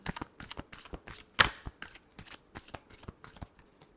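Tarot cards are shuffled by hand in quick, rhythmic riffling bursts, close and fairly quiet, with one sharper slap partway through and no talking.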